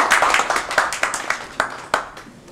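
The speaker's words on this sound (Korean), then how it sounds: "우리 김상희 선생님 수고하셨다고 박수를 보냅니다" A seminar audience claps at the close of a broadcasting-themed event, a thin scattering of hands with distinct, uneven individual claps that fade and then return in a few louder bursts.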